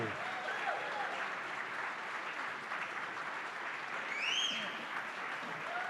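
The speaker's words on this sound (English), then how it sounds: "How about another round of applause for Lieutenant Governor Antonio Delgado?" A room full of diners at a political party's spring dinner claps in a dense, sustained round of applause, steady throughout with a few faint whistles rising above it.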